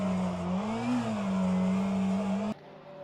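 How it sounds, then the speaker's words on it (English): A race car engine in a racing video game during a traction-control burnout, a loud sustained drone that wavers in pitch and then cuts off sharply, leaving quieter engine sound underneath. "I have to do TC burnouts."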